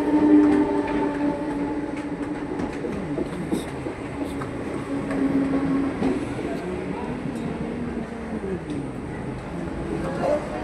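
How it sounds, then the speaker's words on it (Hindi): A Mumbai local train pulls into a station with a loud, continuous rolling rumble and whining metallic tones that shift in pitch, while voices talk nearby. "दूसरी ट्रेन आ गई यहाँ से"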